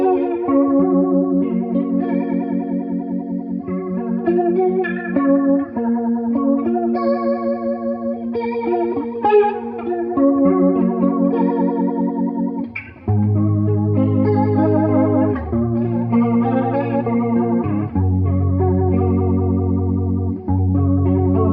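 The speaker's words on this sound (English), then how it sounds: "By turning the rate up, you can get Leslie type tones" A clean electric guitar plays chords and melodic lines through a Buffalo FX Reticon flanger pedal set for a swirling, rotating-speaker Leslie-style modulation, wavering and shimmering throughout.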